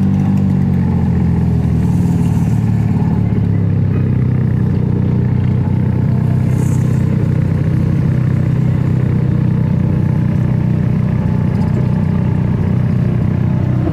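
Traffic jam in the rain in Karachi, with a steady low rumble of car and motorcycle engines idling and revving close by, continuous throughout with no talk.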